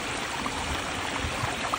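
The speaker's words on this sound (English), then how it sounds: "My favorite and the homeowner's favorite drop in the waterfall is this one right" Water spills over a drop in a backyard pondless waterfall, a steady close rushing and splashing wash that runs continuously without pauses.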